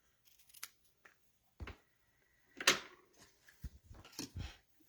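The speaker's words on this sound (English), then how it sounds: "Now we'll cut a little piece of ribbon to make a bow, just a little knot." Scissors cut a small piece of ribbon for a bow on a handmade card, giving a few crisp, close snips separated by quiet pauses, with no talking.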